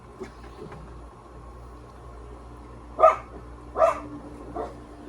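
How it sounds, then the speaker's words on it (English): A dog barks three times, a bit distant, with pauses between, over a low steady background hum. "Y'all hear Phoebe barking, bro"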